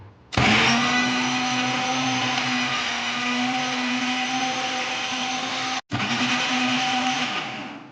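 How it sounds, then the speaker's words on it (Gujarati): A kitchen blender crushing a green pani puri paste mixture with chilled water, starting abruptly into a loud steady whirring drone, cutting out for a split second, then resuming until the motor stops. "અને હવે આ જે મિશ્રણ છે એને આપણે ક્રશ કરી લઈએ."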